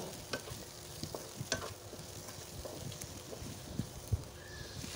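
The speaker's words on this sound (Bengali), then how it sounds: "এরপরে আলুগুলো দিয়ে সুন্দর করে কিছুটা সময় নেড়েচেড়ে ভেজে নেব" Potatoes with garam masala are stir-fried in a pan, a faint, soft sizzle with light irregular scraping taps from the stirring, fairly distant and quiet.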